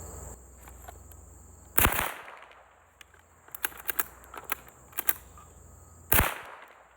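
A CMMG Bravo 22 conversion rifle fires sharp, close shots, with a rapid cluster of cracks in the middle between two louder isolated reports, over a steady high insect-like whine in the background.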